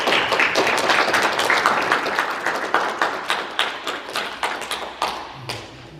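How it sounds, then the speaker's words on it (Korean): Audience applause at a Korean church council meeting, dense clapping that starts full and then thins into scattered, separate claps as it fades out. "박수 한번 주시기 바랍니다."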